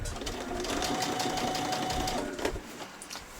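A sewing machine runs steadily, stitching a seam on a child's dress with a backstitch at the start, its close, continuous motor whir and needle chatter filling the clip before easing near the end.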